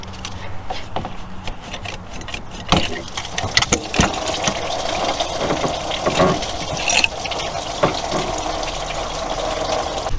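Coolant water gushing and splashing from a heater hose pulled off a 2007 Chevy Tahoe, a steady wet rush with scattered clunks and knocks from the work close by.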